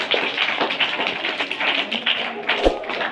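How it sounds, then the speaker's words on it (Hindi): A school audience claps hands at a Republic Day event at Abdul Rahim Public School, Murwara: dense, continuous applause that stays fairly even and loud for the whole stretch, with no voices over it. "एक बार तालियां बजाओ कस के"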